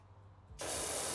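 In the video game PowerWash Simulator, after a moment of low hum, a loud, steady high-pressure pressure-washer spray hisses on abruptly and keeps going.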